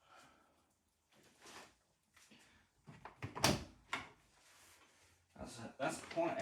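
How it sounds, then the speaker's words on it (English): A heavy door is handled while being taken off without damaging the paint, giving scattered knocks, scrapes and a sharp thud amid shuffling, with people talking nearby. "That's quite a heavy door."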